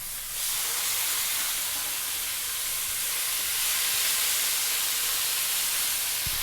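Pork loin chops sizzle steadily in a hot pan over medium heat after being flipped, a close, continuous bright hiss that swells slightly and holds for several seconds.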